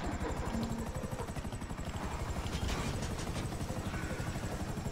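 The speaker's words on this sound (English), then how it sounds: "There's a jet. There is? Yeah, there's an enemy jet." Military aircraft flying overhead in Grand Theft Auto V online, a steady loud rotor-like pulsing drone held throughout, no talk.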